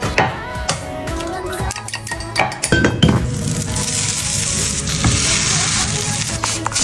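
Potato mash with yogurt, teriyaki sauce, sesame and black pepper being scraped and mixed in a bowl: close clinks and scrapes of a utensil against the dish, then a continuous sizzling hiss.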